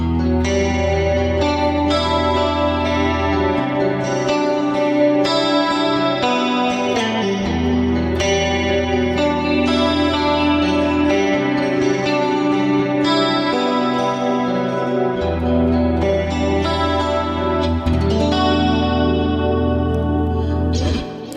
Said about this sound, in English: So now I've made that bridge humbucker a single coil, and on this sound especially,